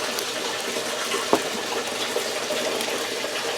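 Water is poured onto dry potted orchids, a steady splashing gush running throughout with one brief louder splash.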